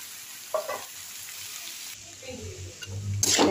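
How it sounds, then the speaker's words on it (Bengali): Soaked soybeans frying with vegetables in a pan give a moderate sizzle with a few stirring scrapes and a louder burst near the end, with no spoken words. "এই যে সয়াবিনটা ভিজিয়ে রেখেছিলাম, দিয়ে এটাকে এখন এর মধ্যে দিয়ে ফ্রাই করব"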